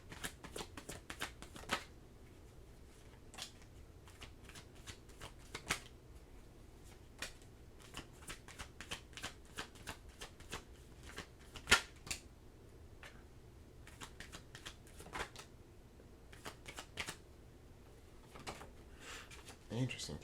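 Tarot cards are shuffled by hand in a quiet room, with repeated soft riffling and sharp card snaps and taps in uneven bursts, close but faint, and a low voice murmuring now and then.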